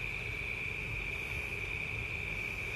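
A steady, high-pitched drone of cicadas buzzes without a break, evenly loud throughout and heard on its own with no voices.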